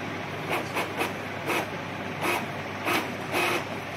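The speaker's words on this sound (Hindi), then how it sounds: "ब्लैक प्रिंट आएगी।" An Epson L3110 or L3250 inkjet printer making a black copy runs with a steady mechanical hum, punctuated by regular rhythmic whirring sweeps of the print head roughly every half second, close and moderately loud.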